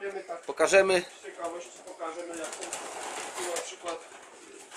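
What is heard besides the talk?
racing pigeons cooing in a loft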